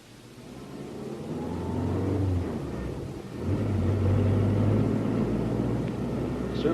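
A car drives along with a steady low engine rumble and road noise that swells partway through, close and continuous, with faint voices now and then in a rural drama setting.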